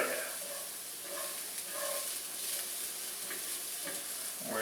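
Onions fry in a pan for homemade onion dip, sizzling steadily and faintly while a utensil scrapes and stirs them at regular intervals.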